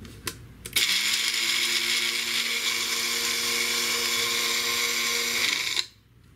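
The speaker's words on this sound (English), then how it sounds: "this stuff is also apparently very abrasive on blenders and stuff, so I wouldn't use an expensive blender to do this" An old, worn blender grinds crushed egg shells into fine powder, starting with a clatter and then whirring at a steady, loud, high-pitched motor drone for about five seconds before cutting off abruptly.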